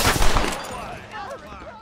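Gunfire from the Western video game Red Dead Redemption sounds as a quick burst of loud shots at the start, then echoing reverberation fades under game noise.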